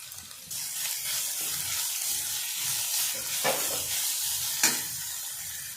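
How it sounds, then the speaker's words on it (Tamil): Chopped onion and grated carrot sauté in a pan, a soft continuous sizzle with quiet stirring strokes and two brief sharper scrapes, low and close. "எல்லாம் சேர்த்து வதக்கி விடலாம்"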